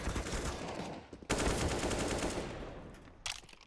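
A sudden rapid burst of gunfire in a professional Counter-Strike match at a Perfect World Asia League event, dense close shots fading over two seconds, followed by a brief sharp shot near the end.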